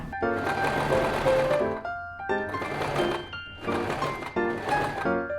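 A sewing machine stitches the lining of a tiny handmade fabric bag in four close, rapid whirring bursts, with brief quiet pauses and small clicks between them.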